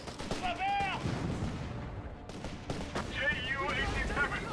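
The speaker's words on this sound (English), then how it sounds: "I really love the effect on these strafing runs, by the way." Strafing-run gunfire from an aircraft in the real-time strategy game Company of Heroes 3 crackles in rapid bursts, moderately quiet, while a commentator talks over the action.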